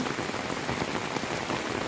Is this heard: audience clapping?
no